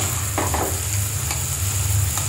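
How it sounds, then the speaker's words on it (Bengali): Chickpeas frying in a pan after onions in a Bangladeshi kitchen, a continuous close sizzle broken by a few brief scraping stirs, no voices. "এখন বুট বসাই দিলাম"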